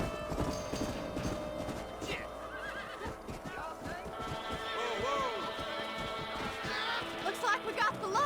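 Horse hooves galloping in the Red Dead Redemption western game, a fast clip-clop rhythm close by with whinnies and neighs, voices talking over parts of it.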